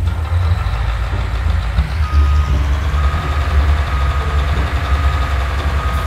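A harvester vehicle in Farming Simulator 19 sounds a steady reversing beep over a loud, constant low engine drone, close and continuous with no talk.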